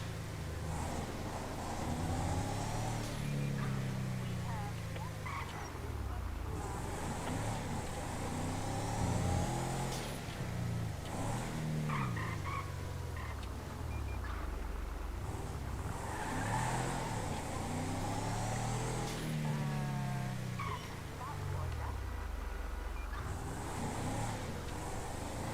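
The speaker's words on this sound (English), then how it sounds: "There is surprisingly a decent amount of vehicle traffic around" Car traffic on a GTA V roleplay server, a video game: engines rev and accelerate as vehicles pass repeatedly, a steady loud layer of motor noise rising and falling throughout.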